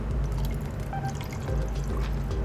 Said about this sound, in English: is how to pour soda